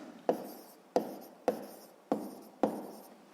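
A pen writes out a sixth-grade maths solution by hand, giving five quiet, evenly spaced scratchy strokes, each starting sharply and trailing off, close and alone.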